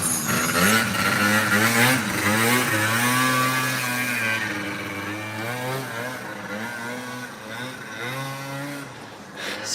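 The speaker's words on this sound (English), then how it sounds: "the clutch is really loud" An idling engine with a loud clutch, a steady tonal rumble with wavering pitch and harmonic drone, fairly close and loud, while voices talk briefly over it.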